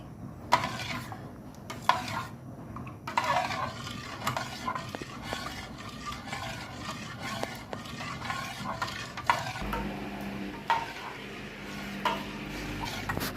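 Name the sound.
stirring cooked gulaman for coffee jelly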